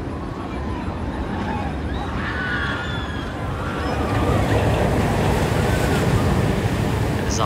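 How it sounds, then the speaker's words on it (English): Diamondback roller coaster at Kings Island in Mason, Ohio splashing down into water, a loud, continuous rush of spray and wind that swells toward the end and covers the whole stretch. "one of my favorite parts of the Diamondback roller coaster is this splashdown that's coming up here in just a second"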